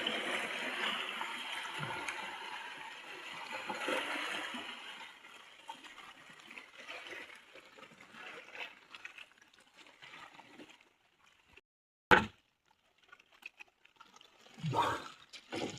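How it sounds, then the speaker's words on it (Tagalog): Sea waves splash and wash around loudly at first during night fishing, then settle into quieter trickling and lapping, broken by a few sharp splashes near the end. "Lalaki ng alon dito mga katangay."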